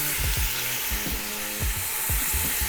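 Short rib searing in a hot pan, a steady loud sizzle and crackle running throughout with repeated low knocks as the meat is moved or stirred, no voices.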